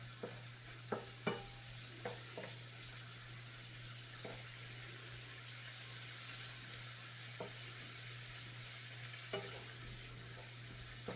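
Pork belly sizzles and browns in a pan over moderately high heat, a steady frying hiss broken by a dozen sharp scrapes and clacks of stirring, fairly quiet and with no talk.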